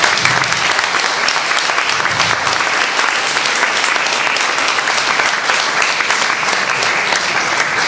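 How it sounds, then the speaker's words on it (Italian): Steady, dense applause from an audience at a civic political event, continuing loud and unbroken for the whole eight seconds with almost no talk. "io farei loro un altro applauso."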